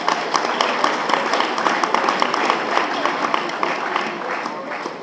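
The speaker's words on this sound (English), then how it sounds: "A round of applause for our superintendent, Gordon Smith." Audience at a leadership forum giving a round of applause for the school superintendent, Gordon Smith; many hands clap in a dense, fairly even patter that holds steady and eases slightly toward the end.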